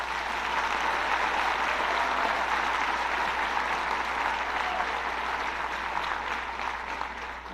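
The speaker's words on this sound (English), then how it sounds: "So give him a round of applause" A school assembly audience applauds an award recipient at Weber High, steady dense clapping that holds loud throughout and tapers slightly at the end.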